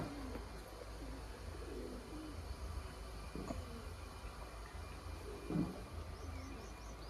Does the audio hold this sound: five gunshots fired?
no